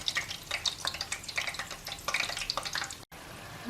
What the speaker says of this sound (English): Now we should fry it until this all will turn in brown color.